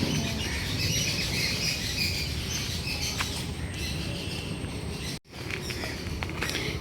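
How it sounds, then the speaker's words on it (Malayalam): Birds call and chirp intermittently over a steady bed of outdoor ambient noise, with a brief dropout near the end. "കിളികളുടെയൊക്കെ കരച്ചിൽ"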